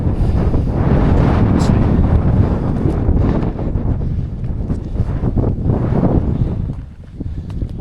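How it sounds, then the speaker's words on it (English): Strong wind buffets the microphone in loud, roaring gusts on the Simonside Hills, rising and falling and easing slightly toward the end. "It's starting to get very windy."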